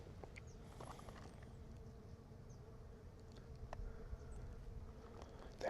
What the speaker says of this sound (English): There's so many bees around the tree as well.